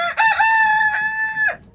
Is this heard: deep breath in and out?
no